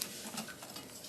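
A whisk beats heavy cream into a mixture in a bowl, making a quiet, soft, rapid swishing and scraping that runs continuously for a moment, close by and with no speech.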